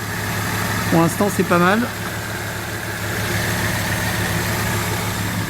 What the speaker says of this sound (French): Le ralenti, il est stable.